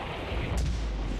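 A single gunshot from the video game The Saboteur, one loud low boom with a short sharp crack, up close and standing alone.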